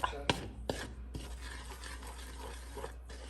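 A spoon stirring biko, Filipino sticky rice cake, in a pan: a few scraping strokes at the start, then soft continuous rubbing and light sizzling, quiet and close, with no talking.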